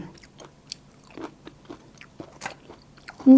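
Someone bites into and chews a ripe wild fruit (mak duea kai), with several soft, moist bites and crunchy chewing sounds close to the ear, alone without any talk.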